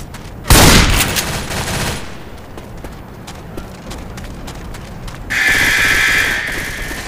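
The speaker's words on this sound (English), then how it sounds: "Reloading!" Weapon reload in Left 4 Dead 2: a loud burst opens, followed by a run of sharp mechanical clicks and clacks, then a brighter, louder stretch of noise near the end.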